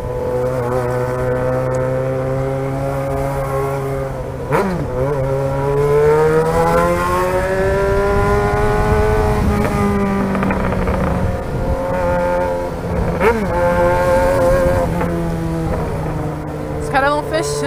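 A Jaguar XJ6 engine drones close by while driving in traffic, its pitch rising and falling as it revs, with a strong, continuous mechanical hum throughout.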